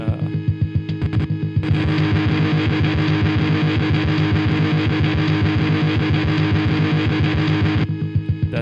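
A heavily distorted, fuzzy guitar-like tone from the first distortion setting of a SuONOIO effect, sustained loudly for several seconds, with choppier strummed bursts at the start and end.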